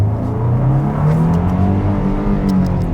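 A 2025 Nissan Armada accelerates hard from a standstill, its engine note climbing steadily in pitch as it pulls through the gears, loud and close from inside the cabin with no talking.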